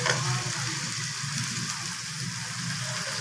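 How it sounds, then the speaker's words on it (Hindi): Tomatoes dropped into hot oil with frying garlic and masala while cooking sarso ka saag, giving a loud steady sizzle that stays close and constant throughout, with no one talking. "ये इसके अंदर हम टमाटर डालेंगे।"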